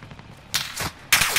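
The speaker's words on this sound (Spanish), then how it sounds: "Me están disparando, de atrás." Gunfire rings out in Call of Duty Warzone, with two sharp, loud shots or short bursts about half a second apart over a quiet background, with no voices.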